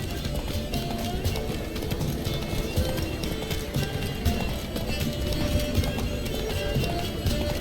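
Roach, Geralt's horse in The Witcher 3, gallops steadily with a continuous rapid clip-clop of hooves close up, carrying on without a break from start to finish over a busy game backdrop.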